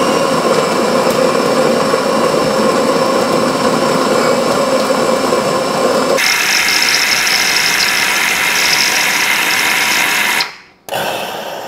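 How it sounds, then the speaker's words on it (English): A Saeco Aulika EVO Focus coffee machine making a latte macchiato, a loud, steady mechanical whir and hum that shifts to a different tone partway through, then cuts off briefly before resuming near the end. "We're going to go ahead and make a latte macchiato."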